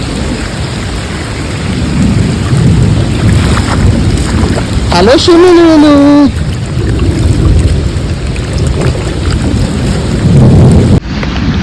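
Heavy monsoon rain pours steadily and loudly on a house, with a low rumble of thunder running beneath it; a voice calls out briefly over the downpour, and a short whistling tone rises midway.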